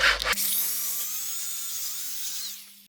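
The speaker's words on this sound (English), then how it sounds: "So just the biggest drill bit you've got" A high-pitched power drill with a large bit whines steadily for nearly three seconds after a brief knock, close up, then winds down at the end, while working on a car engine mount.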